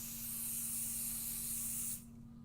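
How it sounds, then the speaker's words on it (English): One pump of pixie spray mist, a close, bright hiss lasting about two seconds that cuts off sharply, with a faint steady hum underneath. "So let's take a little bit of pixie spray."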